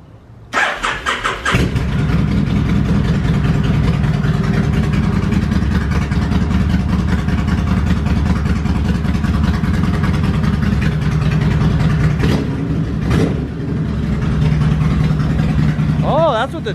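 A car engine cranks and fires up, then settles into a loud, steady running drone with the choke off, with a few brief bursts and voices talking over it near the end.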